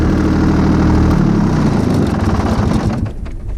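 A Mahindra eMax 22hp compact tractor engine runs loud and close with a steady low rumble, softening slightly toward the end.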